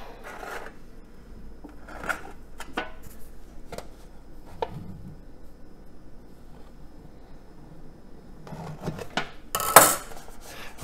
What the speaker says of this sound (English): we'll cut it to the same size as the pie pan at this point